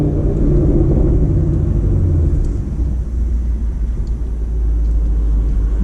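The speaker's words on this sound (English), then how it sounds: "So let's go ahead and take a little bit of a drive with the 91-93 tune" A tuned 2019 Ford Mustang GT with a JLT cold air intake cruises along, its engine a steady, loud low rumble heard from inside the cabin with no talking.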